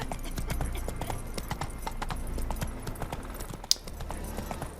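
Horse hooves clip-clop in a steady trotting rhythm while riding in The Witcher 3 game, close and clear, with a sharp click partway through and faint background ambience.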